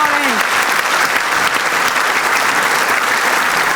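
A television talk-show studio audience applauds loudly and continuously, with a dense, even roar of clapping throughout. A voice is briefly heard at the very start.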